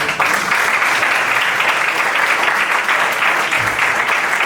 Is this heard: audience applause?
yes